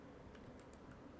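A few soft keystrokes on a computer keyboard while Django REST Framework code is written, faint irregular clicks over a low, quiet background hum with no talking.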